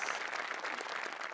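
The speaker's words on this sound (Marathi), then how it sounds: "हरीश कसपटेंसाठी पण एकदा टाळ्या" Studio audience at a Marathi comedy show applauding, a steady dense wash of clapping that runs through the whole short moment without a break.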